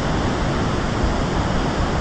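Ocean waves wash in a steady, dense roar of surf, heard alone without pause.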